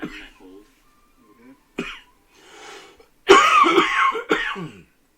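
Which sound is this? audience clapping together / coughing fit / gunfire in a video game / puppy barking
coughing fit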